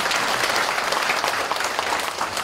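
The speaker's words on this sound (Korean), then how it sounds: "박수 한번 해주시고." A lecture audience at a Yonsei University talk on current affairs breaks into loud, steady applause, many hands clapping densely and evenly throughout with no voice on top.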